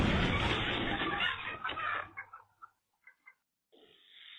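Agitated chickens cluck loudly right after a firecracker goes off, a dense burst of squawking that thins into a few scattered clucks and then resumes faintly.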